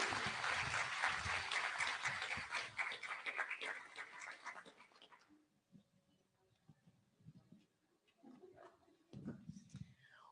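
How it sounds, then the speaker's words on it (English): An audience applauds at an International Women's Day celebration ceremony led by President Uhuru. The clapping is dense and sustained for about five seconds, then fades into a quiet room with faint scattered sounds and a brief stir near the end. "A round of applause, ladies and gentlemen."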